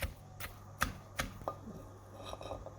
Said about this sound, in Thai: แล้วก็โขลกไปจะได้ไม่คาว